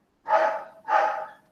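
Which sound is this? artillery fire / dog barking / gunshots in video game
dog barking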